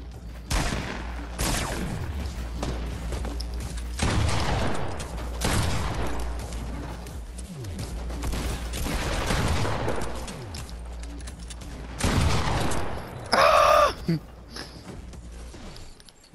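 Video game gunfire aimed at a bot: repeated bursts of rapid shots and booms across the clip, loud and near, with players talking over parts of it.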